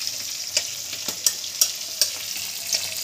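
Chicken pieces for a desi chicken roast fry in a pan, giving a steady bright sizzle broken by several sharp stirring scrapes and clicks at regular intervals, close up and with no voices.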